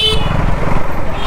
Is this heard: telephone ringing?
no